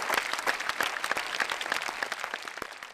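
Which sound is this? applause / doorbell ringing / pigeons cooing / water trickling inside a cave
applause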